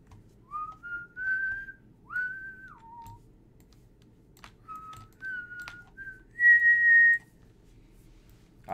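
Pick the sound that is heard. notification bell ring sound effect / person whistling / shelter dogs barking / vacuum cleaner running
person whistling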